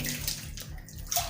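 Steady running water seeping from rock, trickling and splashing close by, a continuous watery wash with no voices.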